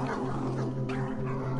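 A dog in a video game gives a brief, close bow-wow with whining, yipping tones, heard clearly over a steady low hum.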